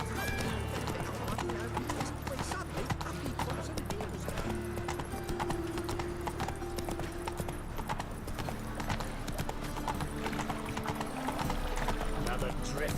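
Roach the horse gallops in The Witcher 3, a fast, unbroken clatter of hooves near and loud throughout, with a voice talking over the riding and a low steady rumble beneath.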